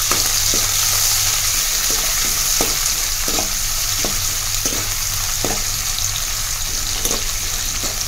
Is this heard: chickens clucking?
no